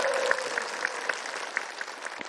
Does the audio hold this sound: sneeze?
no